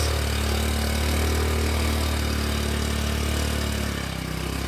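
Automatic scooter engine running on a rough trail crossing, a steady mid-pitched drone that stays close and constant, with wind and road noise blended in and a slight dip near the end.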